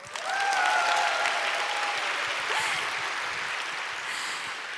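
An audience at a church prayer gathering applauds a violinist, a dense, steady roar of many hands clapping that fills the space and tapers slightly toward the end, with no voices over it.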